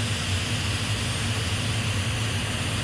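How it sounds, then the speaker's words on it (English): Three helicopter turbine engines on a display vehicle at a technology museum, brought up to speed by a car engine, give a loud, steady, close roar with a high whine layered over a deep rumble, unbroken throughout. "The car engine brings the turbines up to speed."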